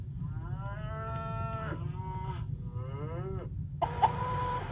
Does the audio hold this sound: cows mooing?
yes